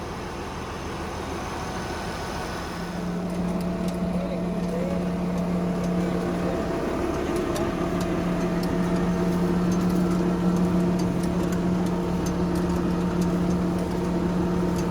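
An old 1086 tractor crawls along in a slow creeper gear, pulling a sweet potato planter; its engine holds a steady, moderately loud low drone with a firm hum throughout, and no one speaks.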